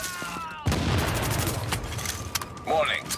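Gunfire in The Division, a burst of rapid shots that starts sharply and keeps going as a loud, dense fusillade, with a fresh crack near the end.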